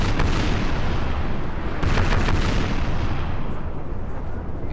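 Cannon broadside from a ship in a Napoleon Total War naval battle, a dense roll of booming gunfire with overlapping blasts that stays loud throughout and shows a sharper cluster of shots near the middle.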